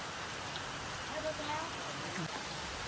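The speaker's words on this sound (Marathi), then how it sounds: "बघा वारा आणि हा पाऊस" Wind and heavy rain sweep over a Konkan village in a faint, steady hiss that continues without a break.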